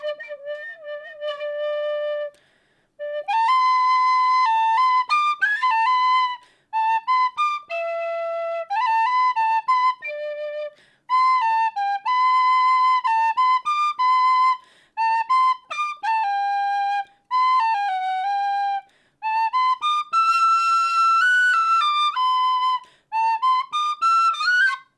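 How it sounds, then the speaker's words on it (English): A tin whistle plays a bright, lively melody in clear sustained notes and quick runs, with short pauses between phrases and no voices. "Tin Whistles are good and they're actually very easy to learn."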